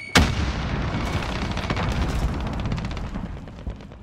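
Grenade explosion in the video game Call of Duty Warzone: one sharp, loud blast at the start, then a rumbling roar and crackling debris that slowly fades.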